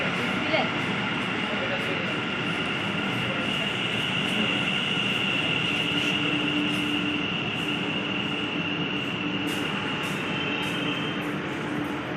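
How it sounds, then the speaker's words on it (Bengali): A Kolkata metro train arriving at Sealdah station gives a sustained rumble with metallic wheel squeal and a high whine, close and loud, while faint voices murmur on the platform. "তো ট্রেন আসলে তার কিছু মুহূর্ত দেখে নাও।"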